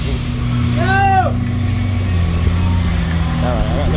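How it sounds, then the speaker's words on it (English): Truck backing up on a street with its engine rumbling steadily, a squealing brake whine rising and falling partway through and a softer warbling squeal near the end, while a voice speaks over it. "as the truck is backing up"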